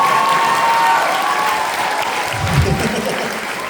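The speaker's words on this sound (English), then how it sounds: "That's where you applaud" An audience at a Chicago horror convention fan event for the film Terrifier 3 claps and cheers in sustained applause, with some talk mixed in.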